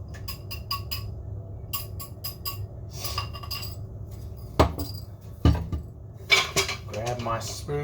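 Egg yolks for challah bread are lightly beaten, with quick rhythmic taps of a utensil against a bowl followed by louder clinks and knocks, and a voice briefly heard near the end.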